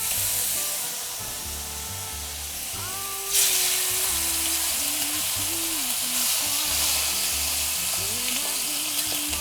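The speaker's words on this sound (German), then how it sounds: "Von beiden Seiten so circa 2 Minuten scharf anbraten." Duck breast sears in hot oil in a frying pan with a loud, steady crackling sizzle that flares brighter partway through as the meat shifts, heard up close with no talking.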